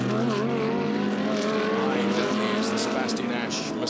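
Porsche and Mercedes-Benz GT cars from the ADAC GT Masters race at the Red Bull Ring roar at high revs, with a steady loud engine drone and shifting pitch beneath commentary.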